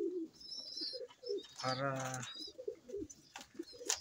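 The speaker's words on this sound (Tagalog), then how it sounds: "ayan ang ating mga ibon guys." Fancy racing pigeons coo in a loft, a soft rolling coo rising mid-clip among faint rustles and small chirps, with someone speaking briefly.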